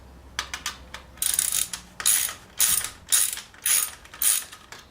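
A ratchet clicks in quick, irregular bursts while loosening an exhaust clamp on a 2019 Honda CBR500R motorcycle, close and fairly quiet, with short pauses between strokes.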